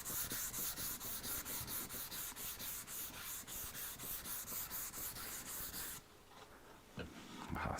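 Rhythmic back-and-forth rasping of a block plane blade being sharpened on 800-grit abrasive, steady strokes for about six seconds, then quieter, scattered scrapes.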